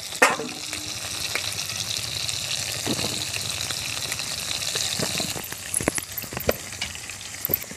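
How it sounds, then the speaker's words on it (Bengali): Cut eggplant pieces are lifted out of a bowl of water into another bowl, giving a continuous watery slosh and trickle, followed by a few sharp clinks and drips near the end, close by. "আমি এখন জল থেকে একটা পাত্রে উঠিয়ে নিচ্ছি।"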